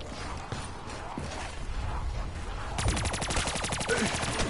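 Rapid automatic gunfire in Call of Duty Black Ops 3 Zombies, scattered shots early, then a loud, fast, evenly spaced burst of fire over the final seconds.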